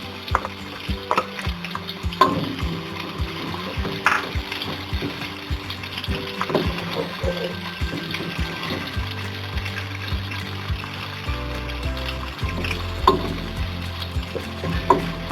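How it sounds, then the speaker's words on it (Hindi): Onions frying in hot oil in a pan while cooking aloo moongray, with a steady sizzle and repeated stirring scrapes and clinks throughout. "ऑयल गरम हो गया है, अब इसमें प्याज हम ऐड करेंगे।"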